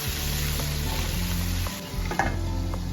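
Chilli chicken is stirred in a pan over a medium flame: a continuous close sizzle with spatula scrapes and a couple of clanks toward the end, without any speech.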